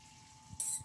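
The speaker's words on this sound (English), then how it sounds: "I'm going to mix it one last time and I'm going to pour my eggs" Beaten eggs pour into a hot buttered pan and hit it with a sudden sharp sizzle near the end, short and close after a quiet moment.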